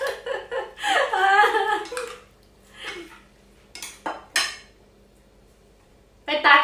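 Swedish honey mushroom salad being mixed in a bowl, with clattering scrapes and knocks of utensils against the dish in short bursts, some brief voices in between, then a pause before a final clatter.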